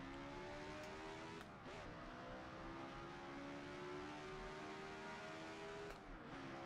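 Racing car engine in the driving game Assetto Corsa, a steady loud drone with rising and falling pitch as it builds speed, broken by brief gear-shift dips.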